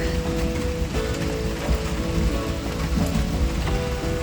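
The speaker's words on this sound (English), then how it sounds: "So we finally got our rain." Rain falls steadily over a garden after a dry spell, a dense, even patter and hiss that continues unbroken from start to finish, with no talking.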